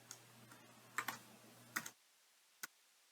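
A few quick keystrokes on a computer keyboard as an answer is typed in, a handful of close, sharp clicks over faint hum, then one last isolated tap after a short pause.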